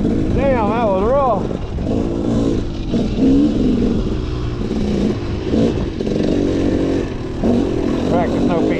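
A KTM 300 two-stroke motocross bike rides rough ground, its engine buzzing and revving up and down in rising and falling surges, with rattles and clatter heard close from the rider's position.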